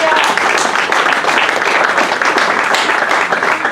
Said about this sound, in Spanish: Aplausos para Dios.